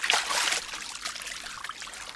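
Water runs while bath foam is rinsed off in a 1976 Soviet film scene, a soft steady trickle and splash that is loudest at first and then fades, with no voices.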